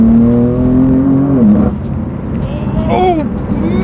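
A BMW M4 GTS accelerates hard from inside the cabin, its engine note rising in pitch through the revs before a gear change and a second climbing pull, loud and close.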